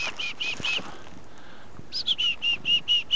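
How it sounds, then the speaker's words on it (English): Chickadees calling close by at a park feeder, two bursts of bright repeated high notes separated by a quiet pause, with faint rustling between them. "here's a chickadee"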